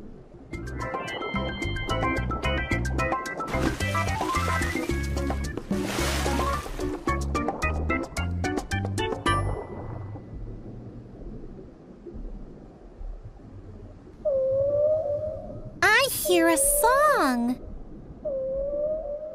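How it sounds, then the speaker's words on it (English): Humpback whale song, with moaning, rising and falling calls that come in near the end after a stretch of plucked background music. "Humpback whales make lots of sounds."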